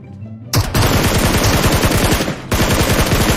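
Rapid automatic gunfire from a shooter video game, a loud dense burst of shots that stops briefly near the middle, then resumes, close and continuous with no talk.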